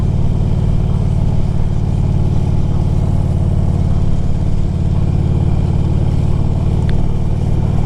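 Steady low engine rumble of a 2002 Harley-Davidson Electra Glide Ultra motorcycle cruising at highway speed, loud and continuous with a constant throb mixed with wind noise and no speech.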